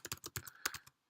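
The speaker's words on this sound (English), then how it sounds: "I will type it actually." Quick bursts of typing on a computer keyboard, close and clear, with about ten key taps in an uneven rhythm before it falls silent.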